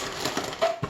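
Colby Jack cheese block being shredded on a grater, a short burst of close rasping scrapes, with a brief bright squeak partway through.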